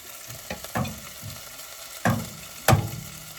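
Italian sausage and garlic are stirred in a frying pot, with a low sizzle underneath and several sharp scraping knocks of the spoon against the pot, two louder strokes coming near the end.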